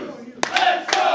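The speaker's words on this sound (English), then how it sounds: "the crowd really getting in and trying to get JJ Hughes back into this" Wrestling crowd at an indoor IWE event cheering and shouting in a sustained roar, with two sharp slaps or claps standing out above it, close and loud.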